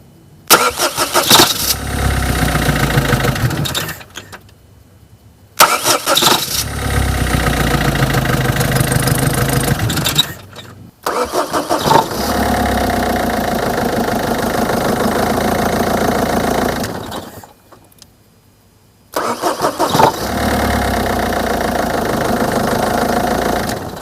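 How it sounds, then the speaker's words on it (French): A Peugeot 207 1.6 HDi diesel engine, with a replaced rear engine mount, cranks and starts, runs with a rough, knocking idle, then cuts out; this repeats several times with short silent gaps between runs. "je vais filmer maintenant comment ça se passe lorsque je démarre ma voiture"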